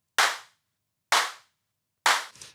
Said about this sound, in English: reverb sounds very cool with claps. So let's add it. Already you can hear it sounds very cool